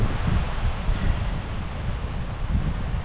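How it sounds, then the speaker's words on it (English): Strong wind buffets the microphone beside a lake, a dense, rough low roar with gusty swells and rustling, steady and close with no voices. "The access to the lake is bad and it's really windy."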